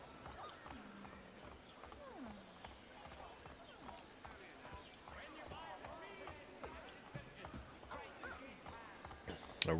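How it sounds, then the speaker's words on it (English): Horse trotting in Assassin's Creed 3, a steady run of hoof clip-clops heard at moderate level beneath game music and speech from characters. "I forgot how to make my horse trot at a faster pace."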